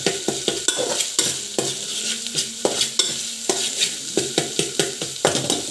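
Masala khichdi rice is stirred in a pan over heat, with a spoon scraping and clanking in a steady rhythm of repeated strokes over a soft background sizzle, close and fairly loud, with no talking.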